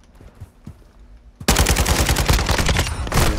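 Call of Duty gun battle: after a quiet stretch, a loud burst of rapid automatic gunfire erupts and keeps rattling steadily, with dense overlapping shots up close.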